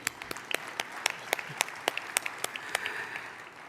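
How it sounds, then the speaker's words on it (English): A small scattering of people at an annual church conference business session clap sparsely, distinct individual hand claps popping irregularly over a quiet room, fairly faint and distant. "You can clap for that."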